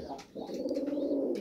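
Armavir fighting pigeon chicks coo in a soft, close, continuous murmur that swells after a brief pause, with no talk.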